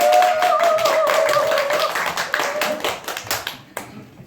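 An audience at a talk applauds to welcome a speaker, a dense burst of clapping that thins to scattered claps over a few seconds.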